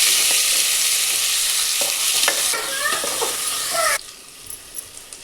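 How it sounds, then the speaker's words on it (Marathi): Tomatoes, potatoes and onions frying in a pan with garlic paste are stirred, a loud steady sizzle with scraping strokes that stops suddenly, leaving a quieter background with faint clinks. "टमॅटो, बटाटे आणि कांदे मिक्स करून घ्यायचे."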